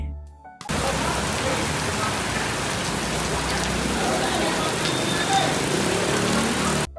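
Steady rain pours down, a dense even hiss of drops striking surfaces, continuous and fairly loud after a brief quiet start.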